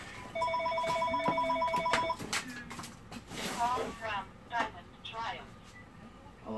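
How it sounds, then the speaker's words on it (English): A telephone bell rings in a short burst of repeated tones, loud and close, then stops as people start talking and moving around the room. "Let me handle this phone call real quick"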